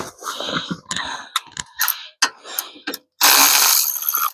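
A wrench ratchets in quick bursts while a wheel bearing is replaced on a Polaris RZR XP1000, the clicking runs separated by short pauses before a longer, denser stretch of close mechanical noise.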